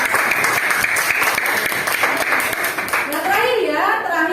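Classroom applause for a student group: dense, steady clapping from many hands, with children's voices and chatter rising over it toward the end.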